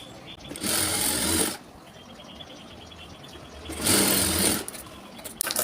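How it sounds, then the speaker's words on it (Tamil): A sewing machine stitching together two layers of blouse fabric, running in two short, fast whirring bursts separated by a quiet pause. "ரெண்டு கிளாத்தையுமே சேம் அப்படி வச்சுட்டு இதில் இருந்து தையல் போடுங்க"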